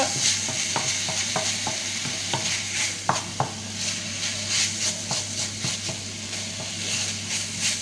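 A little olive oil sizzles in a pan while a spoon stirs and scrapes in irregular taps, made while preparing stuffed cannelloni; close and steady, no voices.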